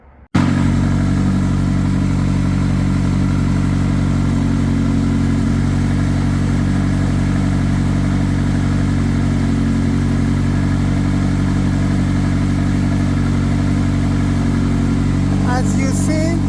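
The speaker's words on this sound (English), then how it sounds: "Right now, I'm gonna start the car and see what's going on." A McLaren's engine fires up after a brief silence and settles into a loud, steady running hum close by, holding constant for several seconds, with a short burst of clatter near the end.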